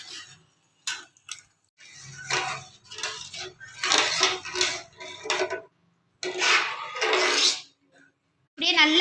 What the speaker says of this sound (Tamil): இப்படியே நல்லா கிண்டிகிட்டே வரணும்